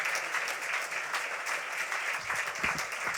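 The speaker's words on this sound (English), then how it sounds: "Please give them a nice round of applause" A gala audience at a literary awards ceremony claps for the prize jurors, dense sustained applause from a crowd in a hall, even and fairly distant for a few seconds with no speech over it.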